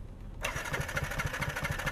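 A Yamaha R15 motorcycle with a leaking exhaust after a crash starts up abruptly from near silence, then settles into a loud, steady, rough running note with a rapid pulsing rhythm, close by and with no talk over it.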